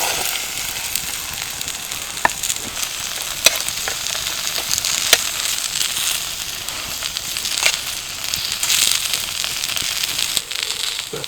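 Vegetables sizzling and crackling in hot coconut oil in a pan over a campfire, a steady close fry with scattered sharp pops and occasional stirring clatter, no voices.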